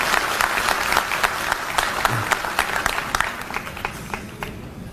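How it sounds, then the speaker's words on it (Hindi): Audience at a party workers' conference applauds, a dense sustained burst of clapping from a large crowd that tapers off toward the end. "एक बार जोरदार तालियां हमारे सभी माता और बहनों के लिए।"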